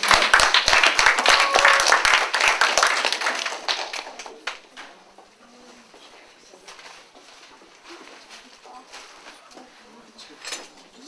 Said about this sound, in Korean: 큰 박수로 우리가 그러면은 우리 장로님을 환영하겠습니다